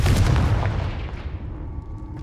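Confringo fire spell cast in the Hogwarts Legacy video game: a loud, booming blast with a heavy low-end burst that rolls off and fades over a couple of seconds, heard alone.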